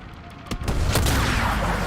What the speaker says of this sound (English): Switch to sniper rifle.